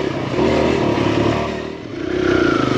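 A Kawasaki KLX140RF dirt bike engine revs hard while the rider pops wheelies at a dirt bike park, a loud, close, rising and falling buzz with brief dips between throttle bursts.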